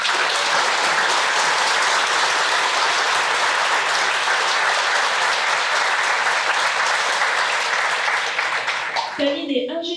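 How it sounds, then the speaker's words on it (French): Sustained, loud applause from a conference audience at Tech Week 2022 honoring a woman engineer, dense clapping holding steady for about nine seconds before cutting off abruptly. "je vous demande de l'applaudir très fort"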